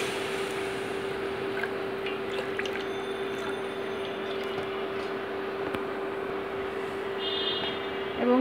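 Hot water is poured into a cooking pot of thin pumpkin khichuri, a steady close splashing stream that runs unbroken for the whole stretch, with no talking.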